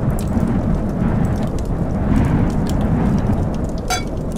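A heavy thunderstorm in a Turkish survival video game: dense, loud rain hisses steadily while low thunder rumbles underneath, and a brief sharp crack cuts through near the end.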